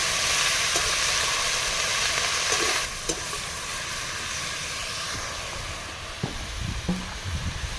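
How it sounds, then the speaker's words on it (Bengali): Cabbage with salt and turmeric sizzles loudly in a pan, a steady frying hiss with a few stirring clinks toward the end, close up. "বাঁধাকপিটাও একটু লবণ দিয়ে দেবো একটু হলুদ দিয়ে দেবো দিয়ে একটু ভেজে নেবো"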